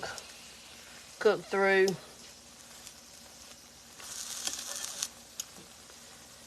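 Egg mixture browns in a pan, with a soft frying sizzle under a short stretch of nearby talk and a steadier hiss later on.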